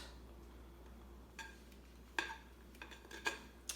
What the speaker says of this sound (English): I'm gonna get all the batter out of this pan, or out of this bowl